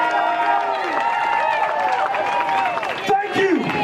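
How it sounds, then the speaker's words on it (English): Crowd applause and cheering for the eating contest contestants at Knott's Berry Farm's Boysenberry Festival in Buena Park, California: steady, dense clapping throughout, with an amplified voice speaking over it. "A round of applause for all of our contestants!"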